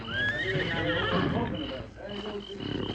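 A horse whinnies loudly up close in a long, wavering call, followed by snorts and shuffling hooves.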